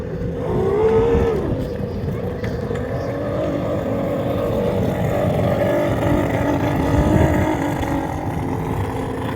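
A misfiring boat engine drones steadily and close by, with a rough, uneven roar that wavers in pitch throughout.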